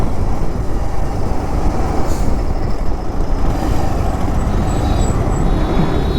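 Dense road traffic surrounds a food delivery rider, a loud, constant wash of engines and tyre roar with passing vehicles and a brief high squeal, no voices.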